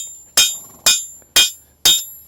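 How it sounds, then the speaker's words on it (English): A farrier's hammer taps a horseshoe on a small anvil four times at a steady half-second rhythm, each strike a sharp, bright metallic ring that decays quickly; close and clear, with no talking. "then just let that hammer tap right there"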